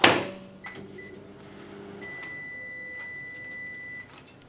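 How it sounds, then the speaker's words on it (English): A microwave oven set on high runs with a glass-fusing kiln inside, letting out a steady low hum after an opening thump, with faint beeps and tones above it. "so we're at the microwave and we'll just pop that into the middle, pop a kiln top on it and get this cooking for 2 minutes on high"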